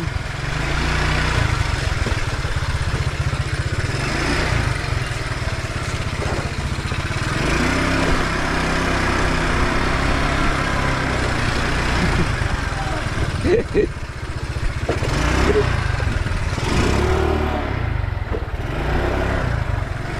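A faulty motorcycle engine idles nearby with a steady low putter and rumble, while people talk over it for much of the time.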